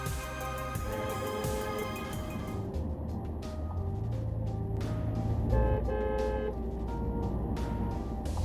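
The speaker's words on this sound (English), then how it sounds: "The drivers heard honking as they were probably trying to tell her to get off the road." Car horns honk on a road in a quick series of short and held blasts over steady traffic and engine noise, fairly loud throughout.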